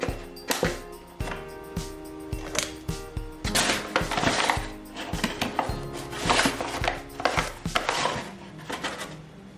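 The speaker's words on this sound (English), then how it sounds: "Now we mix the flour." All-purpose flour, baking powder and almond flour being mixed in a bowl for speculaas cookies, with a steady run of sharp clinks and knocks from a utensil against the bowl, close and fairly loud, with no talking.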